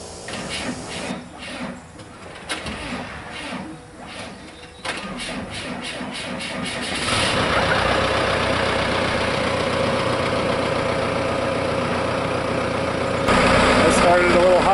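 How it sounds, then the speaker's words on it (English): Forklift engine cranking hard and catching after about five months unused, then settling into a steady, loud idle that rumbles on continuously, heard up close outdoors while getting a garden ready. "Started a little hard, but it's been probably almost 5 months since it's been running."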